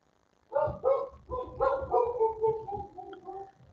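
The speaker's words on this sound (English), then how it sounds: "my dog's barking because somebody's at the door" A dog barks repeatedly at someone at the door, a steady string of about ten medium-pitched barks nearby, fairly loud with no talk over them.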